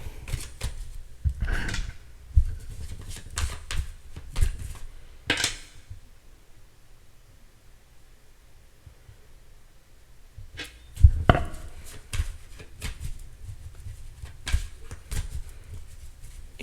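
Playing cards are shuffled close by in short bursts of riffling and tapping, with scattered clicks and quiet pauses in between.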